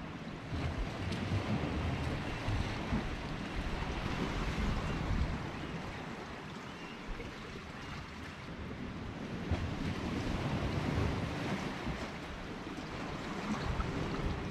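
Ocean surf rolling in at Harris Beach on the rugged coast near Redwood National and State Parks, a steady broadband wash of breaking waves with gusty wind noise, continuous and fairly close, no voices.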